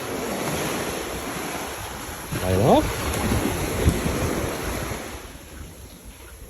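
Mediterranean Sea surf washes onto a beach in a steady, close roar mixed with gusting wind noise on the microphone, while a person speaks briefly partway through.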